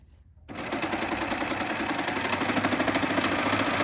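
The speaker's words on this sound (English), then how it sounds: "I'm just gonna go ahead and sew down until I get to my corner" A Babylock Acclaim serger with its cutting knife engaged runs along a fabric edge while sewing binding, starting abruptly after a short silence into a fast, steady mechanical whir with a rapid rhythmic chatter, close and continuous.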